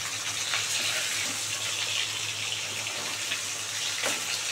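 Heavy rain pours in a steady, dense hiss, loud and continuous with no pauses, heard close by with no talk over it.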